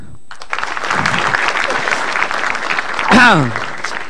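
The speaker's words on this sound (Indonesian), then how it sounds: "Tepuk tangan lagi deh." A stand-up comedy crowd claps in a steady wash of applause that builds and then fades, with a brief whoop or voice rising near the end.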